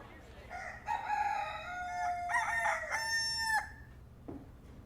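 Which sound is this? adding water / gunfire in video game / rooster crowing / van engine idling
rooster crowing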